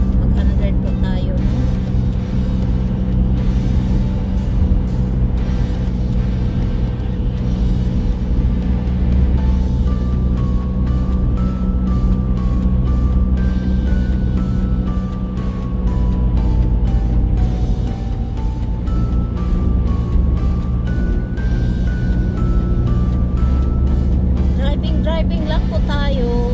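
A car drives along a road in fine weather at around 100, giving a steady, loud, unbroken engine and road drone heard from inside, with drifting tonal sounds layered over it.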